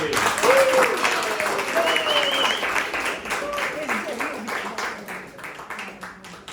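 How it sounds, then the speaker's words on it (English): An audience at an improv student show clapping and cheering, with a dense wash of applause and bright voices calling out over it, loud at first and slowly tapering as the clapping thins toward the end. "just clap and say yay"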